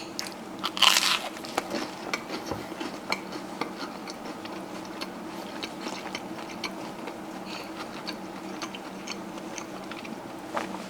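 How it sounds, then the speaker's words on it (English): A bite into a grilled cheese sandwich with a crunchy toasted outside and melted cheese inside gives a sharp crunch near the start, then quieter faint chewing over a low steady background hum. "And let's bite into this grilled cheese sandwich."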